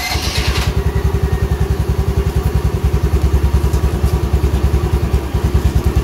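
A Honda Navi motorcycle engine runs at a steady idle, its rapid even pulses thumping loud and close throughout, with a brief hiss at the very start.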